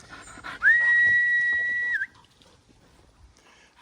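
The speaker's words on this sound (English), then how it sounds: "I'm going to whistle now." A single loud, steady whistle to call a dog, held for about a second and a half, rising sharply at the start, ringing clearly over faint outdoor background noise in the New Forest.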